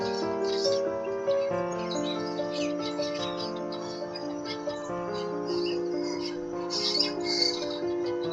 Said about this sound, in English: You can hear the birds singing.